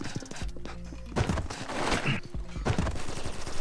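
Rapid bursts of gunfire from the online shooter game Combat Master, loud and dense with repeated shots and clattering effects filling most of the moment, no voice over it.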